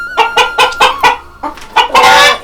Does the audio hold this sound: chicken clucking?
yes